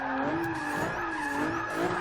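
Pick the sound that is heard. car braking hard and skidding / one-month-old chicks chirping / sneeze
car braking hard and skidding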